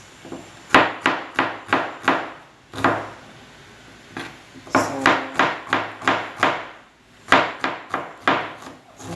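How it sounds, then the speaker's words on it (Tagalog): An onion being sliced with a knife on a wooden board for grilled stuffed tilapia, with quick bursts of sharp, evenly spaced chops in groups of five or six, separated by short pauses, loud and close. "sunod na yung hiwain natin yung ating sibuyas"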